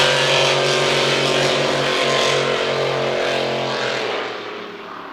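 Hydroplane race boat engine at Gold Cup practice, a loud roaring turbine-like drone that swells steadily then fades as the boat pulls away.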